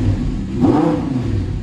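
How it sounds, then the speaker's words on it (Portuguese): An Audi R8 engine warms up close by with a low, steady idle that swells into a brief rev midway, then settles back to a throaty hum. "Pra ir esquentando aqui o motor, tá ligado?"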